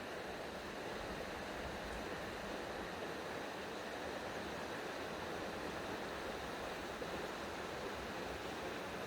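The Hoh River rushing past a campsite, a steady, dense broadband roar of flowing water that holds even and unbroken from start to finish with no voices.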